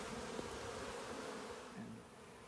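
Bees from a caught swarm hum steadily near a hive box, a faint, even buzz of many insects with no voices.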